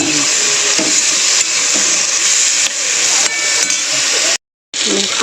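Eggplant frying in hot oil alongside fenugreek greens gives a steady, bright hiss that runs throughout, broken by a brief silent gap near the end.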